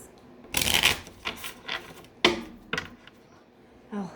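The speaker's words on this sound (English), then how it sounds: "A couple shuffles for you guys." A deck of tarot cards being shuffled in a few separate bursts, crisp riffling flutters with short pauses between, close and fairly quiet, with no talking.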